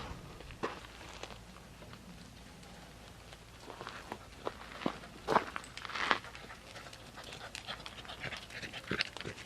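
A dog pants steadily, with quick footsteps approaching on the ground, fairly close and moderately quiet.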